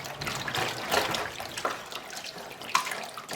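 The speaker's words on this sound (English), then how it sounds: "I just pour that into the hot water, and then I'm just going to stir it." Wine mixture being stirred into hot water, a soft, close sloshing and swirling of liquid in uneven pulses, with no talking.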